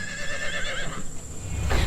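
A horse neighs in a Hindi animated village story, a long wavering whinny fading out, followed by a low thump near the end, close and clear.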